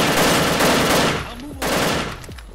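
Gunfire in the video game El Matador, a loud continuous burst of automatic shots that breaks off, then a second dense burst resumes, with a short tonal game sound in the gap.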